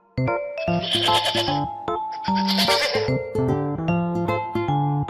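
A goat bleats twice, each a wavering, nasal call about half a second long, loud and near, set against steady background music.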